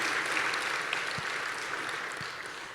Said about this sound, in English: A clap for one of our own.